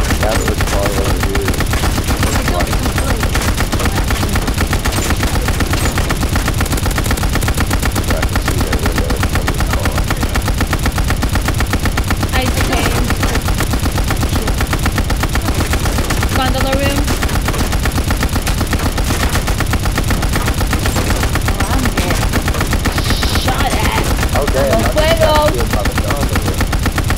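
Rapid gunfire fills a shooter game, with sustained automatic bursts and dense, loud shots that carry on nearly nonstop, while people talk now and then in the background.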